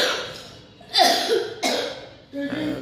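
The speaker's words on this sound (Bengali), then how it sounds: "দেখেছো কাশি হয়েছে তোমার।" A young child who has caught a cold coughs at home in a few separate bursts, close and fairly loud, with quiet pauses between the coughs.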